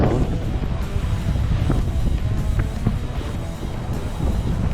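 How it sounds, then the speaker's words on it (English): Gusting wind out on the ice during an ice fishing outing roars steadily into the microphone, a broad rushing buffet with occasional soft knocks and no talk. "Let me turn around so you guys can hear this wind better."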